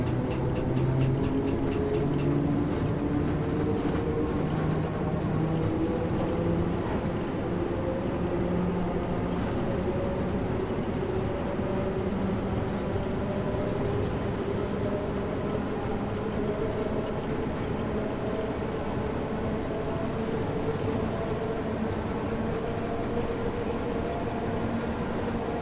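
London Underground Bakerloo Line train in the Train Sim World 2 game accelerating, a steady rumbling drone with rising motor tones that holds continuously and fairly loud, with no talk.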